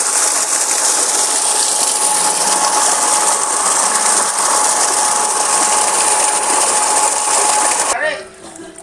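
A modified Jet 750 water pump with 1.5-inch inlet and outlet pipes running and spraying hard, a loud, constant mechanical whir and rushing spray that cuts off abruptly near the end.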